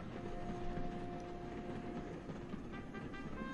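A train rolls along the rails with a steady rumbling clatter and a faint tonal hum, a continuous moderate-level rolling noise.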